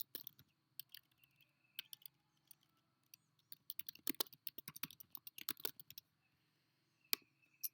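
Keys on a computer keyboard clatter in short irregular bursts while a title is typed into a Google Classroom assignment, close and fairly quiet, with brief pauses between runs of clicks and no talking.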